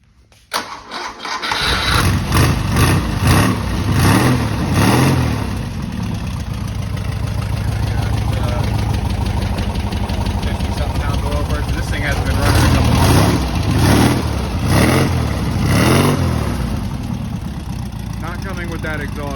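A Porsche 914 engine cranks and catches, then runs at a rough, steady idle with several rising revs, loud and close throughout.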